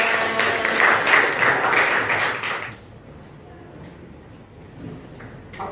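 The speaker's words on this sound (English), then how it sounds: "Give applause to your friends." Students in a classroom clap for their classmates, a dense patter of applause for about three seconds that then breaks off into quiet room noise with faint scattered taps.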